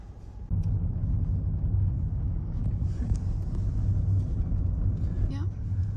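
Steady low road rumble inside a car making its first drive on the left side of the road, a constant engine and tyre drone that stays even and close throughout.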